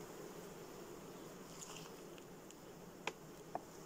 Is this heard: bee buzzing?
yes